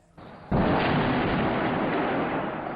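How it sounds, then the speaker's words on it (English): An explosion in the Syrian town of Homs during bombardment by government forces: a quiet lead-in, then a sudden loud burst that settles into a sustained, heavy roar for over two seconds. "Another explosion rocks the town of Homs."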